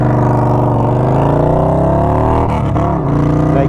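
Loud, close revving from an Indian Scout motorcycle fitted with a 2-into-1 exhaust, a strong rumbling note that swells steadily, dips briefly near the end, then holds, with no talking over it.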